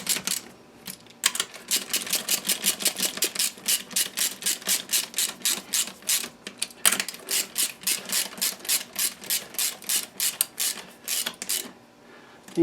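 Rapid ratcheting clicks from a hand wrench snugging down crankcase bolts on a Kawasaki 750 two-stroke triple bottom end, in steady close bursts with brief pauses between bolts.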